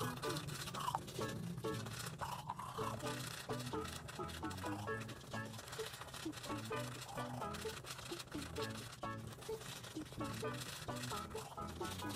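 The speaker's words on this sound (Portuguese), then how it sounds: "Escovar o dentinho comigo?" A toothbrush scrubs teeth in quick, continuous strokes, heard beneath dense, tonal background sound that resembles music or voices throughout.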